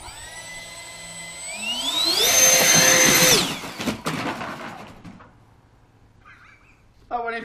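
A new Clarke Airways Taljet model jet engine spools up on its first run, rising to a loud, piercing turbine whine with roaring blast, then winding down through rattles and fading hiss; people speak nearby.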